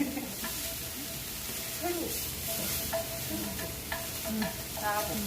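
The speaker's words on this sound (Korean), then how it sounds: "그래서 육즙이 조금 스며들게끔 볶아주시면 돼요." Meat stir-fried in a pan for Korean cooking, a continuous close sizzle with repeated stirring scrapes and utensil taps, fairly quiet overall.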